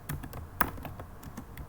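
Quick keystrokes on a computer keyboard, a short burst of about eight crisp taps at an uneven pace, close and fairly quiet, with no talking.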